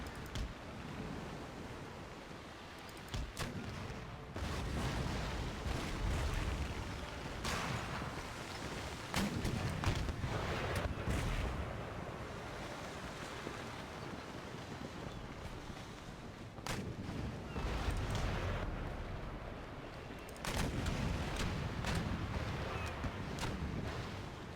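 Naval cannon fire in the Empire: Total War strategy game booms repeatedly in broad, rumbling volleys, sharp reports scattered over a continuous roar of battle and sea.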